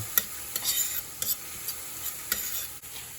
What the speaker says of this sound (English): Also put the garlic until it's a little brown.